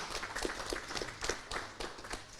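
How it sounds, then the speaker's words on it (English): A small crowd at a Battle for Glasgow 2022 game applauds the Grizzlies with quiet, scattered clapping in an uneven rhythm, heard from a distance. "Can we get a big round of applause there?"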